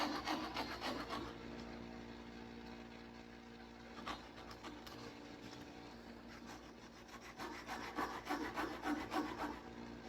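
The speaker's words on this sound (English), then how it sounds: "I actually cut just off of my original cut line" A coping saw cuts through wood for a dovetail joint, giving quick rasping back-and-forth strokes. The strokes come in bursts with brief pauses between them, close and fairly quiet.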